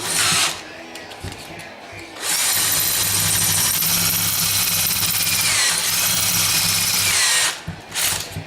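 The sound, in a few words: drill bit drilling through a transmission part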